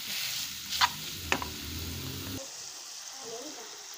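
Chopped ingredients for farofa frying in margarine give a soft hiss with two sharp utensil clinks early on; a lower background rumble then cuts off, leaving only a fainter, thin sizzle.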